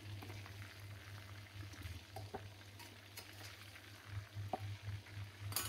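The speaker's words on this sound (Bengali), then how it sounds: "আমার রোস্ট ভাজা হয়ে গেছে, একে একে উঠাবো এখন" Pieces of country chicken roast fry in hot oil with a soft, continuous sizzle and bubbling, quiet and close, with a few small clinks and stirring noises and a steady low hum underneath.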